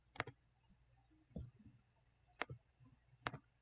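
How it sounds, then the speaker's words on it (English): A computer mouse is left-clicked and held to drag nodes in embroidery design software. Three sharp, close clicks fall at uneven intervals over a quiet room background, with a faint duller knock between the first two. "I am left clicking and holding to drag those nodes."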